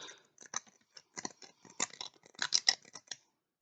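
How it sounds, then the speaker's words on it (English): Irregular gritty scraping strokes of metal scissors grinding against rock, close and dry, in short uneven bursts with brief pauses. "I can attempt to scratch this rock with scissors"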